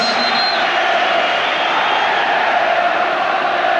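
A football crowd of nearly 60,000 fills Celtic Park during an Old Firm match against Rangers, producing a loud, steady roar with continuous crowd noise and no distinct pauses.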